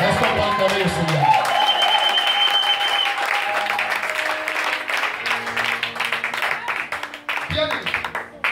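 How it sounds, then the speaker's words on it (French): A church congregation applauding to acclaim the Lord, dense sustained clapping from a crowd filling the room, loud and steady, with voices and music mixed in throughout. "Est-ce qu'on va acclamer le Seigneur?"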